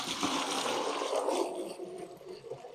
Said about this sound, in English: Now we'll be putting the water in.